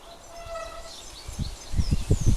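A small songbird sings thin, faint whistled phrases resembling a goldfinch mimicking a wren, followed by a run of low thumping knocks close by toward the end.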